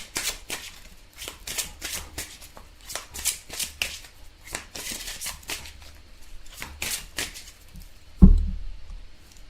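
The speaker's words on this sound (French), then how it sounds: "on va vous tirer quelques cartes des énergies" Tarot cards being shuffled by hand, with a steady run of crisp riffling bursts close by and a brief thump near the end, with no talking.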